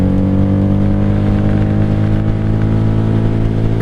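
A rebuilt, once-wrecked 1997 Honda Magna 750 VF750C motorcycle runs after its loose spark plugs and misfire were fixed, producing a loud, close, steady engine drone with a deep harmonic rumble and no pauses.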